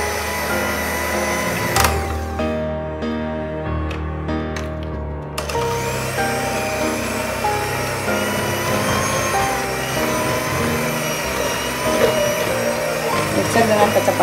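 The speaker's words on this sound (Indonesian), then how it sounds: "Mixer dengan kecepatan tinggi ya teman-teman." An electric mixer whips sweetened condensed-milk cake frosting at high speed, a loud sustained whir that briefly drops and resumes, with a person talking over it.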